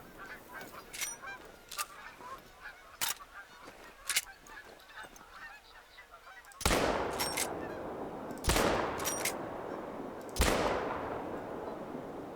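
Several loud, sharp shots ring out in TheHunter: Call of the Wild while geese honk and call throughout. Three strong reports land in the later half, each followed by a lingering tail.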